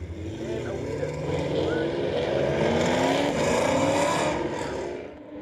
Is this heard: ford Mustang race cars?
yes